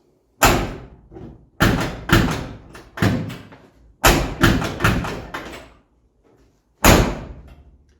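A hard-closing door on a Chevrolet square body truck slams shut over and over, each loud, close thud ringing briefly before the next, in uneven bursts of heavy latch impacts with no talking.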